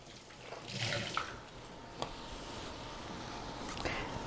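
Water is poured into a cooking pot on a farm-to-fork cooking show, a soft steady splashing stream that swells, eases and then steps up again, fairly quiet and with no talk over it.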